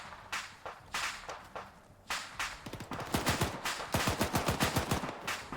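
PKM machine gun in the Arma 3 game, firing short, sharp bursts of gunfire that build into rapid, closely spaced shot rhythms, loud and near.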